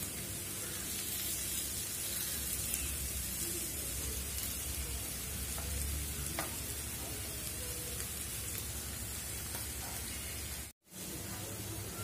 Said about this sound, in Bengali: আর এখানে মূলাটা আমি ভাজি করে নিচ্ছি।